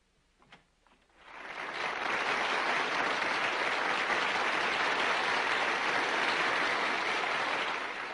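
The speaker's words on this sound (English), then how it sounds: "The applause you hear is for Governor Shivers" An audience bursts into applause after a second of quiet and a few faint sounds, building quickly into sustained, dense clapping that holds steady to the end.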